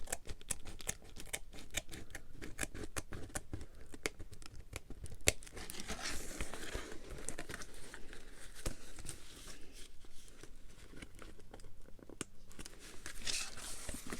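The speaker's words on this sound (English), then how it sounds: "I'm going to snip into that, cut along that" Scissors snipping and cutting through paper while making a calendar envelope for a junk journal, a rapid series of close, quiet crisp snips and rustles running steadily throughout.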